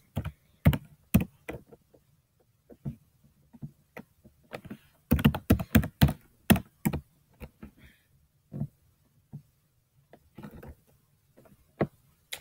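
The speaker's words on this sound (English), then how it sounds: "Now I just have to type in YouTube." Computer keyboard typing in bursts of sharp, close key clicks, some quick runs and some isolated taps, with pauses between and no talking.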